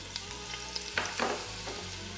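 Beef sears in an Instant Pot for pot roast, a faint, steady sizzle broken by a few soft scrapes and stirring clicks.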